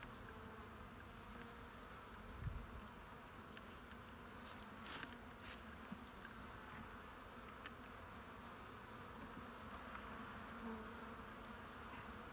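Honeybees hum as a hive just out of winter quarters is opened, a soft, steady, continuous drone with a few faint knocks and taps mixed in and no talking.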